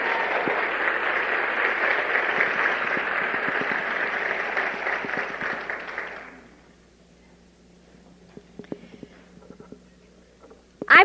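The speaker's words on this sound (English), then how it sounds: "Let's give those ladies a round of applause." Audience applause at a talk on recruiting, a dense steady clapping from a crowd that holds for about six seconds, then drops away into near quiet with a few scattered faint claps and small noises.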